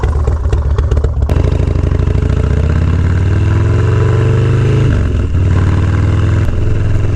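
A Harley-Davidson Dyna Hot Rod Low Rider S fires up with a few sharp cranking clatters, then settles into a loud, close, lumpy V-twin idle with slight rev swells.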